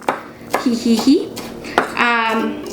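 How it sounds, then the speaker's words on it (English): Herb leaves for pico de gallo get a rough chop with a knife on a board: a handful of sharp, separate taps spaced unevenly, with a voice and brief tonal sounds in the background. "I just kind of roll it up and curl it in my fingers and do a rough chop"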